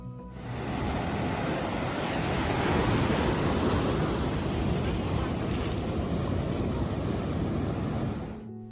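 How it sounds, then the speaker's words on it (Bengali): Continuous roar of ocean surf breaking nearby at Manly Beach, Sydney, loud and steady with wind rushing across the microphone, no voices. "এখানে একদম সমুদ্রের পাশে দাঁড়িয়ে সমুদ্রকে উপভোগ করা যায়"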